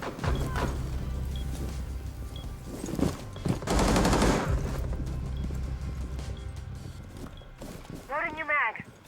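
Gunfire in a VR shooting game: rapid shots under a steady low hum, with a loud, dense burst of fire midway. Brief voice sounds come near the end.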